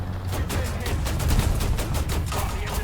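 Tank gunfire in War Thunder ground battle with an M60A1 tank: a dense, continuous barrage of overlapping shots and blasts, loud and steady throughout with no voices.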